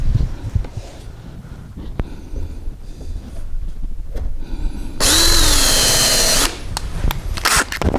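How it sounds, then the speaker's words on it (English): A power drill with a countersink bit bores into a wooden fence on a workbench, giving one loud, steady whirring burst of about a second and a half, preceded by quiet handling clicks and knocks. "Now I need to countersink for a new hole"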